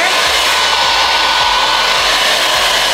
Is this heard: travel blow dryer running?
yes